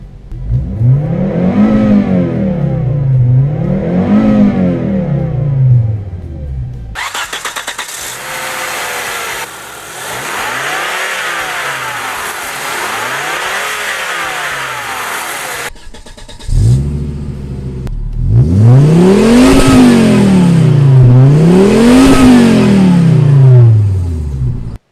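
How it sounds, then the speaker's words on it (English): A 1996 Volvo 850 Turbo engine revs up and down repeatedly in rising and falling swells, heard close in the engine bay and then from the exhaust, with no talk. "Now let me start the car and quickly show you the engine bay followed by some exhaust sound."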